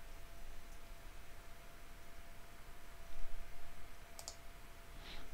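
A computer mouse gives two soft, sharp clicks near the end, set against a steady low hiss in a quiet room with no speech.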